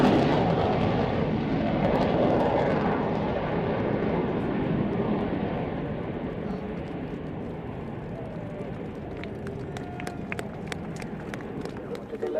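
An Avro Vulcan bomber flies in a flight simulator game, its steady, broad jet roar filling the scene and easing slightly toward the end, with a few faint clicks near the close.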